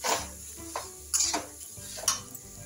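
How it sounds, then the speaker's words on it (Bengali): Raisins being stirred into carrot halwa in a pan over a low flame, heard as a few separate scraping strokes of a spoon across the pan's surface over a faint sizzle, close up with no voices. "এবার এগুলোর সাথে মিক্সড করে দেবো নাড়িয়ে নাড়িয়ে"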